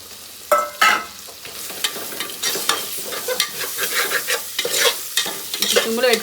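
Boneless chicken for haleem is stirred and scraped around a pan in brisk, uneven strokes, with a soft sizzle running underneath and no voices.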